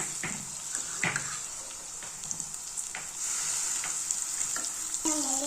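Soya chunks with mutton masala and curd are stirred in a pan, giving a steady sizzling hiss with soft scraping strokes and a few louder clinks of the spoon. A brief voice comes at the end.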